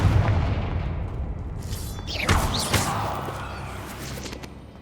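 Confringo blasting spell from Hogwarts Legacy, a booming explosive burst with a swooping whoosh and crackling tail over rumbling background, loud and close.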